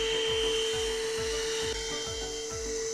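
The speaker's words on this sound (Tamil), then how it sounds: "ஸோ நான் இங்கேருந்தே வச்சு இங்கேருந்தே வேக்யூம் க்ளீன் பண்ண முடியுங்க." An AGARO portable vacuum cleaner with a flexible tube runs while cleaning a car's interior. Its steady, loud motor whine is close up and cut by repeated rhythmic scraping pulses as the nozzle rubs along surfaces.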